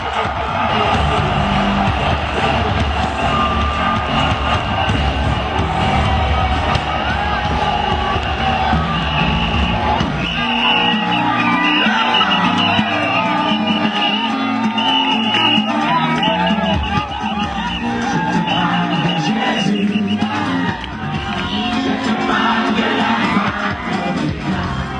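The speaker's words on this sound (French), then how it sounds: "on va pousser beaucoup de cris pour le Seigneur" A large crowd at a political rally in Côte d'Ivoire shouts and cheers for the Lord, a dense, continuous roar of yells and whoops, loud and close, with voices mixed in.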